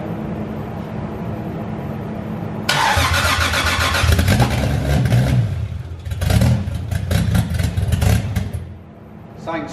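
A 2JZ-swapped BMW E36 cranks and fires up, a steady low idle breaking into a loud, close engine burst, then a couple of rough throttle blips before it settles and fades near the end.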